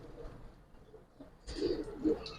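Giribaz pigeons, a black pair among silver and coloured birds, give low murmuring coos, two soft bursts close by in the second half, over faint background noise.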